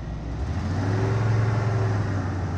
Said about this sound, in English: Let that clutch out and hit the gas.